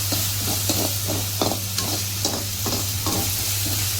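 Garlic sautés in a pan for a spicy hotel-style liver gravy, with a steady close sizzle broken by several scraping stirs of a spoon across the pan and no voices.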